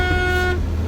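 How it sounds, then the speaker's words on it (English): The horn of a 1987 Chevrolet S10 pickup gives one steady, loud, close honk lasting about half a second before cutting off, with no talking. "Give the horn a little try. You guys ready for this horn?"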